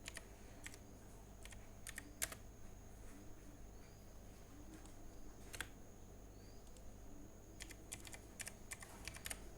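Someone types a product search on a computer keyboard, producing faint, scattered clusters of light keystroke clicks separated by pauses against a quiet room hum.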